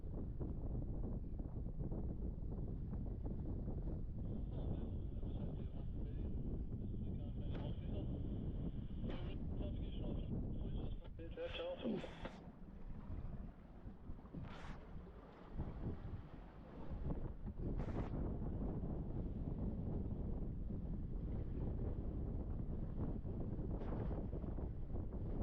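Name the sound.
strong westerly wind while sailing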